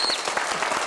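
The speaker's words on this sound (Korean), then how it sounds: "이게 진짜 박수라도 쳐야 되는 거 아닌가." Studio audience applause during a Korean workplace talk show, a brief dense burst of clapping that stays steady and fairly loud throughout, with no voices over it.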